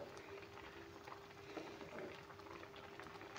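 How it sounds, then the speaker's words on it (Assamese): Tomatoes boiling in an uncovered pot for a fish curry, with steady bubbling and a soft rolling simmer, fairly quiet and continuous throughout. "এয়া চাওক, বিলাহীখিনি ভালদৰে বইল হৈছে।"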